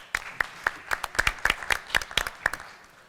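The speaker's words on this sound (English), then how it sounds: "Please give a round of applause as they take the podium" Scattered applause at an education conference, a modest group of individual sharp claps in a fairly steady rhythm, thin rather than a full roaring crowd, under a quiet room.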